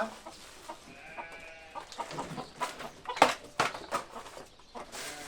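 Several chickens cluck and squawk in short, irregular bursts, fairly close, with faint rustling and shuffling around them.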